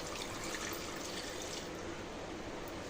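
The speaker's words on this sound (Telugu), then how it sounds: "ఇలా కట్ చేసుకున్న తర్వాత బాయిల్ చేసుకునే దానికి సరిపడేంత వాటర్ని యాడ్ చేసుకోవాలండి." Water runs into a pressure cooker holding cut pieces ready to boil for an after-school snack, giving a brief, steady, soft gush with no speech.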